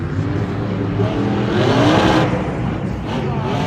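A monster truck engine at Monster Jam San Antonio 2022 drones and revs continuously at low pitch, stuck in low gear with transmission trouble, straining steadily without shifting up, close and dominant throughout.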